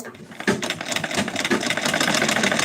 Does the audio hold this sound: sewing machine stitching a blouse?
yes